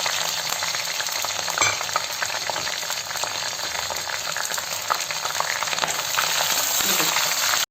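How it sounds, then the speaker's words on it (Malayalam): Green chillies and curry leaves fry in hot oil for cauliflower 65, a steady close sizzle with faint clinks of stirring throughout. "ഇനി ഇതിലേക്ക് നമുക്കൊരു 2-3 പച്ചമുളക് മുറിച്ചിട്ടതും കുറച്ച് കരിവേപ്പിലയും കൂടെ ഇട്ട് ഒന്ന് ഫ്രൈ ചെയ്ത് കൊടുക്കാം"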